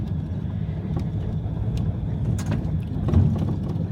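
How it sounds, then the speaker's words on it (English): Car engine droning steadily from inside as it overtakes a van on a very narrow mountain road, with a few faint knocks and rattles over the continuous road noise. "We're overtaking the van on the tightest road ever."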